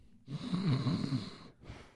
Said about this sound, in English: So that was a really bad snore.